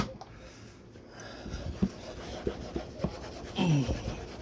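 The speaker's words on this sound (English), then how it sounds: "When you scrub it very hard, it will come out." Hard scrubbing on a refrigerator door gives faint, close rubbing strokes in an irregular rhythm, building to a firmer burst of scrubbing near the end, with no talk.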